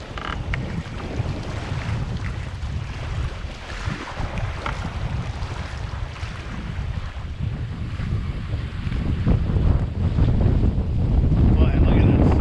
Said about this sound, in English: These breakers, you can hear them. They're roaring like a jet engine.